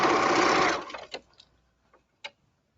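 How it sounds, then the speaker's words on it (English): A sewing machine back stitches through fabric and runs off the edge of the piece: a loud, close, continuous mechanical whir for under a second that stops abruptly, followed by a few faint clicks and taps. "So now I'm back stitching within the piece and running off the edge."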